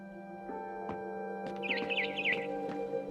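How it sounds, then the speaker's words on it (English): Barn swallow chirping just outside a window in the game What Remains of Edith Finch, a quick twittering run of bright chirps over a soft ambient hum and a few light clicks. "Then I heard chirping outside my window."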